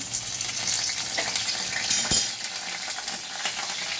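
Garlic sizzling in hot mustard oil in a pan, with a bay leaf and cumin already tempered, gives a steady close crackle with scattered pops and a scrape of a utensil around the middle.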